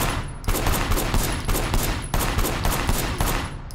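Rapid gunfire from a firefight in the video game Sleeping Dogs, a dense continuous fusillade of loud overlapping shots with brief gaps, filling the whole span without speech.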